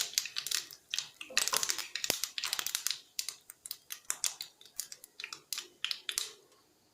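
Mustard seeds spluttering in hot oil while tempering for a Kerala masala dosa potato filling, a rapid, irregular run of sharp crackling pops close by, with no voice over them.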